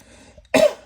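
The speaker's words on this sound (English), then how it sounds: "I'm sorry that I'm coughing so much." A single sharp, close cough bursts out after a brief quiet moment.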